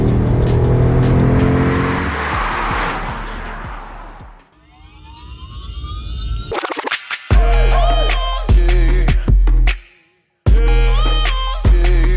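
A tuned 2021 Audi S3 engine revs hard on a dyno, rising through gears in loud sweeping pulls with abrupt cuts between shifts and a brief silence near the end before the roar resumes.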